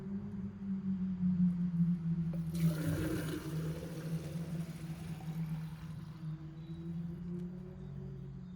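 Water from a tap filling an Autoglym snow foam lance bottle up to its 800 ml mark, a steady close rush and gurgle with a low hum underneath, swelling into a fuller pour partway through.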